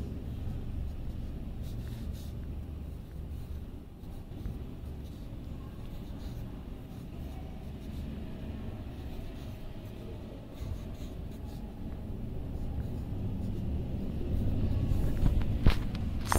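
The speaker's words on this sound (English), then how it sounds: "Now we will draw some leaves." A pencil draws leaves on paper with soft, continuous scratching strokes, faint and close, over a low background rumble that swells toward the end.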